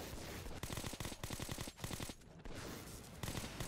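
Rapid bursts of gunfire from a gun in the game Metro 2033 Redux, several quick automatic volleys with brief pauses between them, fairly quiet and without talk.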